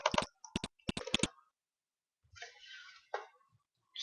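Keystrokes on a computer keyboard while a weapon name is entered in a game modding tool: a quick burst of crisp, close clicks, then a pause and a softer, smeared rattle of keys.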